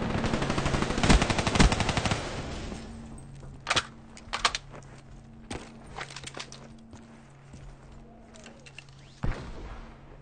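Rifle gunfire from the Black Ops 3 video game: a rapid automatic burst near the start, followed by scattered single shots and short bursts at intervals over a low steady game background.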